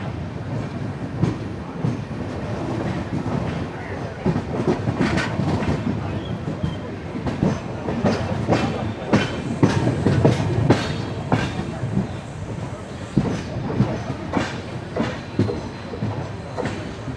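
A Jan Shatabdi express runs on tracks in Kerala on its way into Ernakulam Town station. Steady, loud rail rumble is punctuated by rhythmic clickety-clack wheel beats over joints, with a brief squeal of wheels, and no talk.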